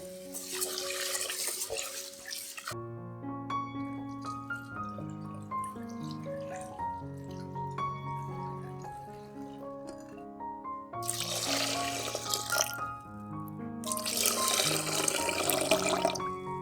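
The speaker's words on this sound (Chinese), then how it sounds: "首先将米倒入锅里，用水冲洗干净" Rice is rinsed in a pot under running tap water, with bursts of splashing, pouring water at the start and again near the end over soft background music.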